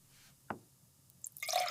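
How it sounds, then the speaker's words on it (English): Cooking oil poured into a pot on a kitchen stove: a single soft drip, a pause, then a brief close liquid pour that swells toward the end. "I pour oil"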